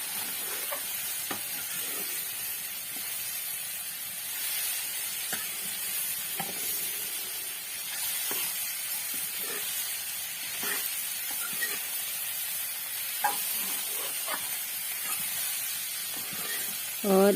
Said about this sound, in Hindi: मैंने लगा दिया इनमें तड़का और अब मैं इनको थोड़ी देर अच्छे से पकने